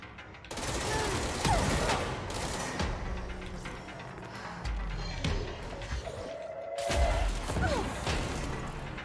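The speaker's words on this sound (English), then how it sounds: "Oh, somebody's still launching rockets." Rockets launching and exploding in the video game Control, a loud sustained barrage of blasts and crashes with a short lull near the end, then another burst. No one talks.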